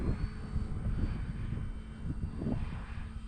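An E-flite Cherokee RC model airplane flies on a very windy day, its small motor buzzing steadily under rumbling wind buffeting the microphone.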